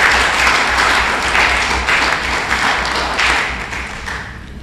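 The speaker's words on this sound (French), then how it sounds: "Il y a de quoi même s'encourager en nous applaudissant" A crowd at a training session on changing mindsets breaks into loud, sustained applause that fills the room, gradually tapering off toward the end, with no speech on top.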